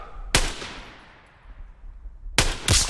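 Sniper gunfire in the Call of Duty WWII mission Death Factory: three loud, sharp rifle cracks, a single shot followed by a quick pair near the end, with decaying echo between them and no voices.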